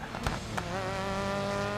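Subaru race car in the GRID Legends video game on the Strada Alpina time-attack circuit, engine droning steadily at high revs with a rising tonal whine and a couple of brief sharp transients early on, no talk.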